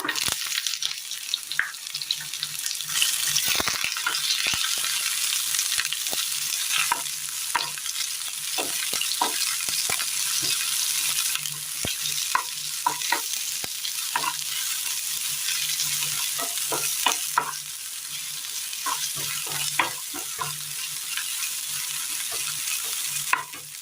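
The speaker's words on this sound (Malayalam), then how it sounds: "ചൂടായ എണ്ണയിലേക്ക് അല്പം കടുക് ഇട്ട് കൊടുക്കാം" Mustard seeds and onion frying in hot oil for a Kerala curry, a constant loud sizzle with scattered sharp pops and occasional spoon stirring, no talking.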